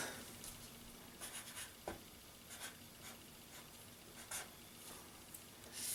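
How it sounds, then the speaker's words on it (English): A pen scratches out a number on paper, a run of soft, close scribbling strokes with small taps, faint and alone in a quiet room. "So we'll write that down."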